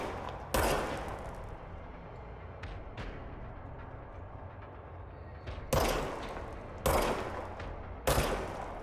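Gunfire in the video game Control: several loud, sharp shots, one early and a cluster near the end, separated by a quiet stretch of low game ambience.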